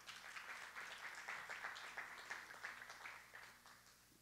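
Church congregation applauding, a soft, fairly distant burst of clapping that swells and fades over a few seconds.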